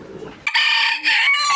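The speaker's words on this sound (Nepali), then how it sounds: "I do have lot of chicken man." Chickens cluck softly at first, then a rooster's loud, close, drawn-out crow breaks in and carries on with a rising, bright call.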